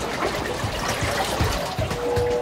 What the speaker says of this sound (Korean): 밑에 파도가 왔다 갔다 하는 소리